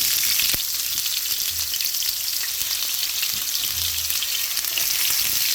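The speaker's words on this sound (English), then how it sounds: "I'm gonna saute them for a few minutes" Red onion sautéing in a pan for a sauce, giving a steady, close sizzle with a few soft stirring scrapes and no voices.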